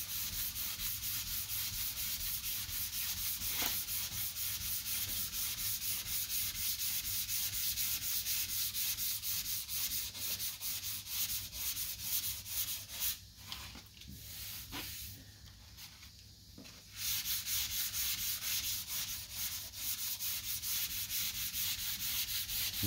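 Continuous rhythmic scraping of sandpaper rubbing by hand over Bondo body filler on a car body line, close and steady, with a few brief pauses and light knocks partway through.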